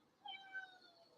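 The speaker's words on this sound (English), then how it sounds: "That's my cat." Horace, a pet cat at home, gives a short, quiet meow, a brief rising cry heard alone against a near-silent room.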